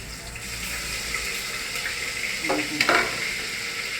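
Onion paste and mutton frying in a pan for Telangana mutton curry, a steady close sizzle with brief stirring scrapes near the end.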